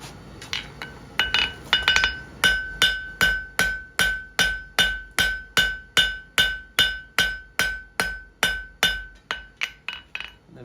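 A cross peen hammer strikes hot steel on an anvil while forging a fire poker, the blows landing close and loud in a steady rhythm of about twenty ringing metallic hits, each one followed by a short decay.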